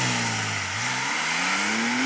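Manual Porsche 911 Sport Classic accelerating hard from a standstill, its engine note rising continuously in pitch through a gear, loud and close with no talk.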